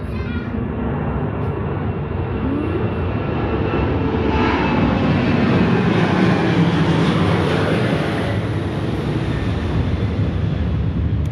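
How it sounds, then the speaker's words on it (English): Airplane passing overhead near the former Naval Training Center in San Diego, a loud, continuous broadband engine roar that swells through the middle and fills the whole stretch. "Oh, I hear another plane coming."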